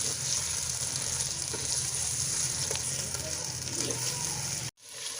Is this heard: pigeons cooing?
no